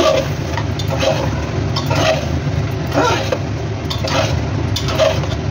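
Mutton cooks in a pressure cooker pot with a little oil and yogurt and is stirred over it, producing repeated scraping strokes about once a second over a low, constant cooking rumble.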